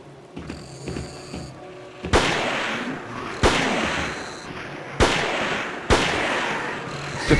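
Gunshots from snipers being fought in the horror video game Siren: Blood Curse, four loud sharp cracks spaced a second or so apart, each with a lingering echoing tail over a low ambient drone.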